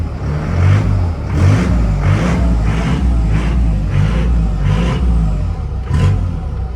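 A 2008 Troller T4 off-roader with a 3.0 diesel making 163 hp revs hard in a rapid series of about eight throttle blips over a deep idling rumble, loud and close.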